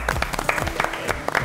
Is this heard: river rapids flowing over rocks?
no